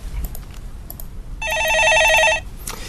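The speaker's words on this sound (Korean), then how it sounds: "예, 전화 받아보겠습니다." Telephone bell rings in one sustained burst of about a second, loud and close, during a live Korean stock-market call-in program, with faint background sounds before and after.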